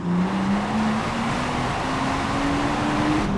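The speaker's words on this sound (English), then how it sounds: "You know, the first second when you build up the turbocharger, it's really crazy." A BMW M140i Stage 2 with rear-wheel drive and manual gearbox builds turbo boost, its engine droning loudly and steadily with a rising whine climbing in pitch, close and without talk.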